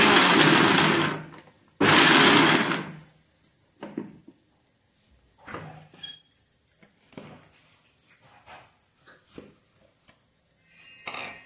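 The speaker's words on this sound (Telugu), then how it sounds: "నేను ఇలా పల్స్ ఇస్తూనే పల్స్తోనే నేను గ్రైండ్ చేస్తాను." A kitchen mixer grinder blending gongura chutney in two loud, roaring pulses, followed by quieter scattered clinks and rattles of the jar and lid.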